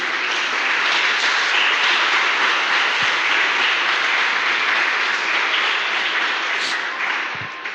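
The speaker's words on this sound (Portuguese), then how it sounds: "Você pode dar um aplauso ao Senhor Jesus?" A church congregation applauds during an Easter Sunday service, a dense, steady wash of clapping that stays loud and even for the whole stretch with no talk over it.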